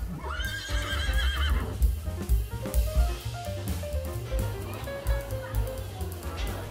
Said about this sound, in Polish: Koniki polskie i klacz zimnokrwista w typie sztumskim ze źrebakiem.